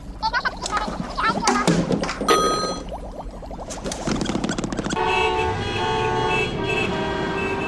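Several car horns toot and honk in short bursts and overlapping patterns, loud and close, mixed with street noise and a voice speaking.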